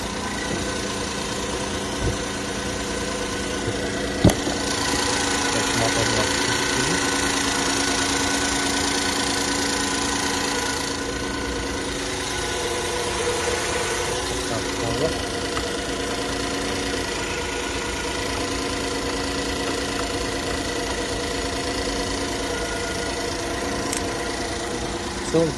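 A 2011 Hyundai Grandeur HG 3.0 petrol engine idling under the open hood, a steady mid-pitched hum with a faint ticking, close and even throughout, with someone speaking over it.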